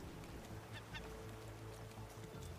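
A goose or duck honks in a few short bursts over steady outdoor background noise near a raft on the water.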